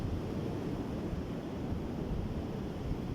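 Sea waves wash in a steady, unbroken roar of surf with some wind rumble, filling the whole stretch evenly and without any voices.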